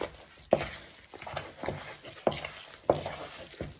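Hands patting and mixing a spicy Mexican meatball mixture in a bowl, soft irregular wet slaps and stirring, several distinct pats, close and fairly quiet.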